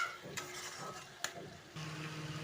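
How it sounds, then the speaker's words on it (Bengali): Tomato masala for a green jackfruit curry fries in a pan, a quiet close sizzle with a couple of sharp clinks and scrapes from stirring, and no talking. "জলটা শুকিয়ে নিয়েছে, এখন আমি এটা ভালো করে ভেজে নেব।"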